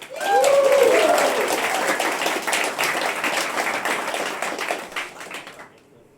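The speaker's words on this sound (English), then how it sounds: "A big round of applause for Andrew Kepple." A live audience applauds at a tabletop game show event, loud sustained clapping that starts at once and slowly fades out, with a brief voice near the beginning.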